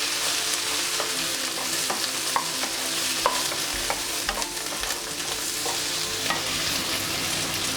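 Turmeric is stirred into cabbage chutney frying in a pan, with a constant close sizzle and repeated scraping and stirring knocks throughout.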